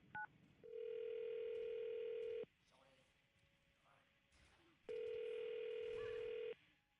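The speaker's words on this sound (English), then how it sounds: "I'm going to dial the phone number right now" Telephone dialing out during a morning radio show call: two long steady tones, a dial tone and then a ringback tone, each sounding for about two seconds, separated by quieter background studio noise.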